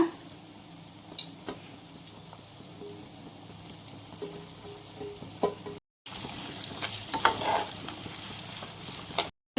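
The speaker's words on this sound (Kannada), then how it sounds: "ಈಗ ಇದು ಚೆನ್ನಾಗಿ ಫ್ರೈ ಆಗಿದೆ ಟೊಮೆಟೊ ಹಾಕ್ಕೊಳ್ಳೋಣ" Tomato goes into a hot pan for masala chitranna, setting off a soft, continuous sizzle with scattered stirring scrapes and a louder burst of frying after a brief cut, with no talking.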